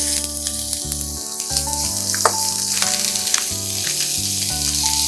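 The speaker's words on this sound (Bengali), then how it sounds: "একটু রোস্ট মতন হলেই এই আদা কুচিটা আমি দিয়ে দেবো" Whole spices and chopped ginger frying in oil in a pan for sabudana khichuri, a steady bright sizzle with occasional sharper pops, close and continuous beneath background music, with no speech.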